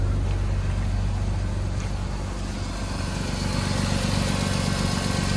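A BMW E46 wagon engine, long left sitting, idles steadily with a low rumble and faint, regular ticking, no revving, running on continuously.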